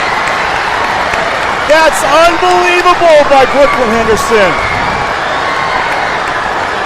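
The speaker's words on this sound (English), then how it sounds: "And boy, is this crowd live." A crowd at a girls' high school basketball game, Carl Albert vs Midwest City, cheers and applauds in a steady roar beneath an excited announcer's commentary.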